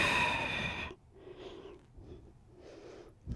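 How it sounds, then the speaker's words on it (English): A soft breathy exhale during a pilates mat exercise, faint and close, following a brief louder voiced sound at the start, then a few quiet breaths. "And exhale."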